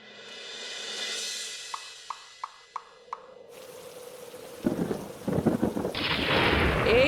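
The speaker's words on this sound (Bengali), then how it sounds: "এই তো ঝড় বৃষ্টি শুরু হয়ে গেল" A thunderstorm with rain, starting with a faint rumble and a few sharp drips, then swelling into loud steady rainfall with noisy gusts.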